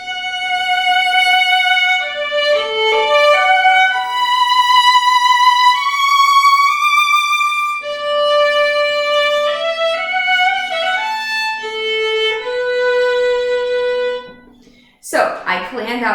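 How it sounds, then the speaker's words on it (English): A violin plays a slow, sustained melodic phrase with shaped vibrato on each held note, clear and close, ending with a brief sharp noise. "So I planned out the vibrato that I want to use for this phrase."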